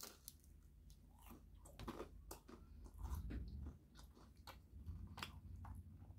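Close, quiet chewing of a crunchy grilled cheese sandwich with a Parmesan crust at a Black Bear Diner, with repeated crisp bites and crackly crunches in an irregular rhythm over a soft background hum.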